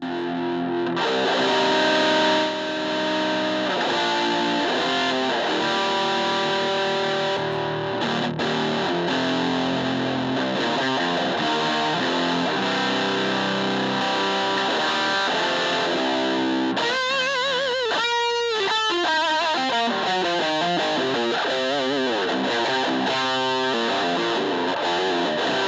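Electric guitar runs through a Skeleton Key distortion pedal, playing a thick, buzzy sustained riff without pause, then switching to choppy, rhythmic fuzzed stabs in the later part, loud and close with no talking.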